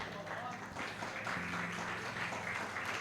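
A church congregation applauds while being seated, fairly soft clapping blended with a reverberant room tone and some murmured voices underneath, steady for a few seconds.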